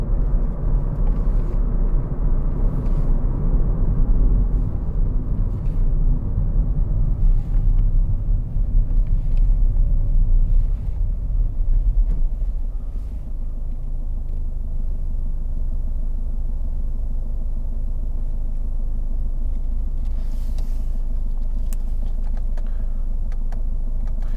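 A 2014 Ford Fiesta 1.5 TDCi Zetec diesel drives along a road, its low engine and road rumble steady throughout and easing slightly about halfway, with faint clicks on top and no speech.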